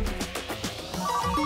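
A phone ringtone plays, a short repeating electronic melody with a few pulsing notes, fairly loud and close, no one speaking.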